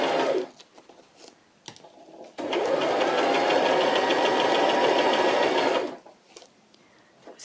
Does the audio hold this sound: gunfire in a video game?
no